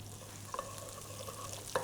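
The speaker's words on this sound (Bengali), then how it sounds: "কারি লিভস আর গার্লিকটাকে একসাথে ভেজে নিব" Fresh curry leaves and chopped garlic frying together in oil for prawn fried rice: a quiet, steady sizzle broken by a couple of sharp spoon clicks and stirring scrapes.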